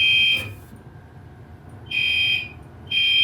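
A new fire alarm panel's sounders go off during a fire drill test: a loud electronic tone cuts off, followed by two more sustained bursts in a repeating on-off pattern over a low room hum, no voices.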